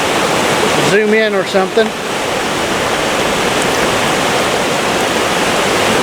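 River water rushes past in a loud, continuous broadband roar. A voice speaks briefly near the start over the steady flow.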